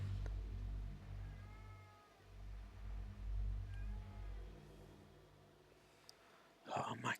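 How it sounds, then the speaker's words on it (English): A house cat meows a few times, with faint tonal cries rising over a constant low rumble, and a burst of noise near the end. "Oh, my cat. She is annoying."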